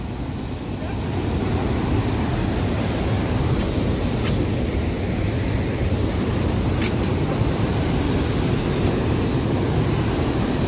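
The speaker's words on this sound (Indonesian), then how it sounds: "Luar biasa airnya membludak." Floodwater from the swollen Brantas river roars over the Jegu dam during heavy nonstop rain, a steady loud broadband rush with wind buffeting the microphone throughout and no break in the flow.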